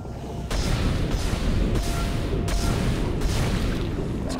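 Heavy, booming gunshots from a weapon in the Dead Space video game fire in a steady series of loud blasts, each landing about every second or so over a rumbling low background.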